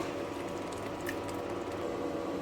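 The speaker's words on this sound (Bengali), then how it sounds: "এখন শাকটা আমি অনবরত আমি নাড়বো, শাকটা যেন নিচে না লেগে যায়।" Taro leaves sizzle in hot oil as they are stirred in a pan, a steady soft bubbling and frying hiss with faint scraping, close and continuous.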